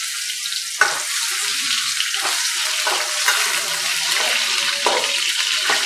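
Sweet potato frying in hot oil, a steady close sizzle with occasional crackles and soft stirring clatter, no voices.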